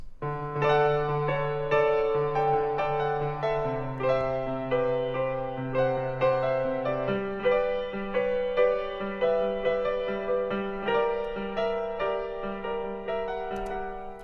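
Piano chords and a melody play steadily at a moderate tempo, notes ringing and overlapping, with no voices.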